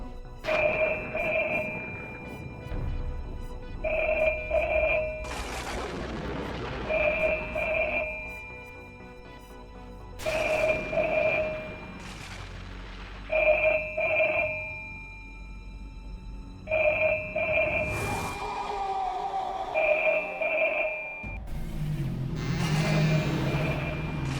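A telephone rings in repeated double bursts with short pauses, loud and close, while other noises and movement fill the gaps.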